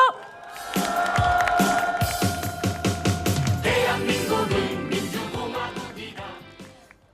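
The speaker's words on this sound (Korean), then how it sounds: "큰 박수로 환영해 주십시오" A rally crowd in Seoul cheers and applauds loudly and continuously to welcome a county councillor onto the stage, with whoops and shouts rising over a steady roar of clapping.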